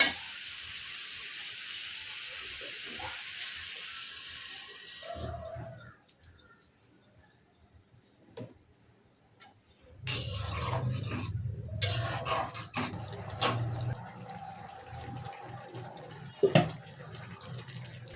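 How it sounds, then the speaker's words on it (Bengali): Water pours into a pan of sautéed curry with long beans and prawns, a soft hiss first, then after a quiet gap a fuller, louder bubbling splash that continues close by. "তরকারি কষানো হয়ে গেল, এখন আমি দিয়ে দিচ্ছি ঝোল।"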